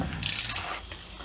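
A ratchet fitted with a 1/2 inch socket clicks on the connecting rods of an AMC 360 V8 engine under rebuild, a short, quick run of close, crisp ratcheting clicks that fades out after about half a second.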